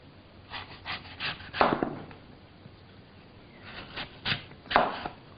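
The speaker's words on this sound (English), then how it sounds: "Now we're going to cut the apple into 1-inch thick slices." A knife cuts an apple into thick slices for fritters, producing a few separate crisp crunching strokes in two short clusters with quiet pauses between them, close and fairly soft.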